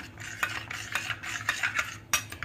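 A spoon stirs a thick spiced urad dal batter in a bowl, giving soft, wet, rhythmic scrapes and squelches at close range. The strokes repeat every half second or so, with no talk.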